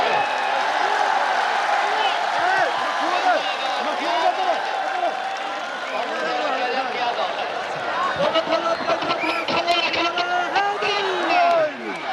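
A crowd claps at an outdoor kabaddi match, steady applause and cheering that runs throughout while an announcer talks loudly over a PA.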